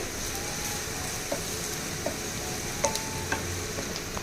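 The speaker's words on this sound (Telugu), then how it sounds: "ఇప్పుడు ఇదంతా బాగా కలిపేయాలండి" Tamarind pickle with chili powder is stirred in a pan, giving a continuous soft sizzle with occasional scraping clicks of the spoon against the metal.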